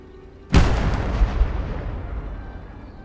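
A single heavy gun fires through a window in the Call to Arms Gate of Hell game: one loud, close blast with a deep boom that rolls and decays over a few seconds, no talk.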